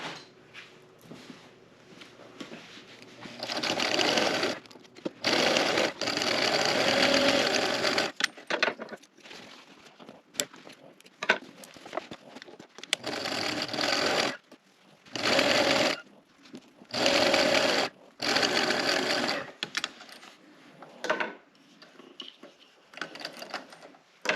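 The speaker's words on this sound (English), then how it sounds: "we'll back stitch and then just seam down both sides" A sewing machine back stitches and then runs seams down both sides of a fabric coloring bag, in several bursts of steady whirring separated by short pauses and soft handling clicks.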